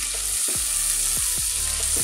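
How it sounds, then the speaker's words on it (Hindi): Garlic-ginger paste and onion fry in a pan for Hyderabadi bhagare baingan, giving a steady close sizzle with a few soft stirring scrapes and no talking. "लहसुन अदरक का पेस्ट को भी हम फ्राई करेंगे इतना कि इसका कच्चापन जो है वो ख़त्म हो जाए"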